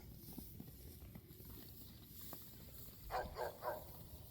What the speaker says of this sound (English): Oh, he's barking at something.